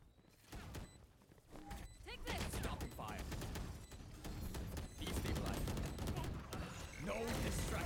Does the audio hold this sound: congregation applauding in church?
no